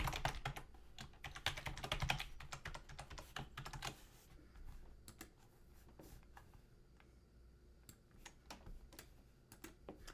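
Quiet clicks of a computer keyboard as a password is typed, with rapid irregular keystrokes that are denser at first and then more scattered.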